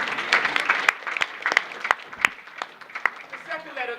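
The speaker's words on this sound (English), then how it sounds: "You guys can clap it out." An audience at a youth motivational speaking event claps in a loose burst of sharp individual hand claps that thins out toward the end, with a voice faintly audible underneath.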